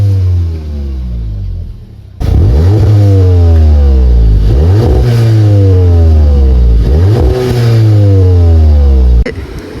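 A VW Golf 7 GTI Performance engine revs hard, heard from inside the cabin: loud, close, repeated rising surges as it accelerates through the gears, with a quieter idle-like hum before the first pull.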